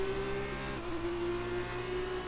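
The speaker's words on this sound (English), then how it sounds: "Braking downhill into third gear, applying the throttle, just a little bit of a shaky exit." An F2 single-seater engine in the F1 2019 video game holds a steady loud drone as the car exits a downhill third-gear corner, with a slight pitch shift midway and no talking.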